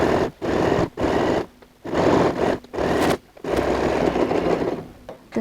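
A sewing machine stitches a side panel onto handbag fabric in loud, close bursts, about five runs separated by brief pauses, with no talk.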